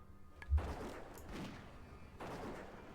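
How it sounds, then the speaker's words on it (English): Hunter's Rapid Fire and Multi-Shot volleys in World of Warcraft Classic, several muffled ranged bursts layered with game effects, moderately loud bursts at intervals over a low background. "Nice little multi-shot to soften them up"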